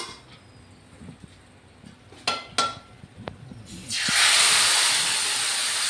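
Chicken curry with cardamom is stirred in a hot pot, with a few sharp metal clinks of the spoon followed by a loud, steady hissing sizzle.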